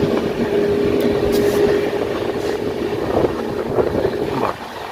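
Inside a general coach of the Darjeeling Mail on a foggy morning, the train rumbles along with a loud, steady roar of wheels and rushing air, a few clanks and a brief drop in level near the end.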